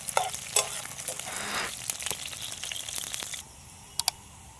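Onions and chillies sauté in a pan with a steady sizzle and scraping stirs, loud for the first few seconds and then fading to a quieter simmer with a couple of sharp clinks near the end.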